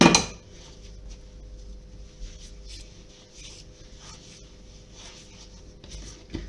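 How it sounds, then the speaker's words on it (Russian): Bread dough is worked and kneaded by hand on a floured surface, with soft, steady rubbing and pressing and faint occasional knocks. It is quiet and close, with no talking. "Тесто хорошенечко вымешиваем."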